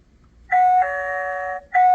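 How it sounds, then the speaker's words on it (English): A smart deadbolt lock's built-in doorbell plays a clear electronic chime, a two-tone ding-dong followed by the start of another ring, close and alone. "Another doorbell for someone to ring."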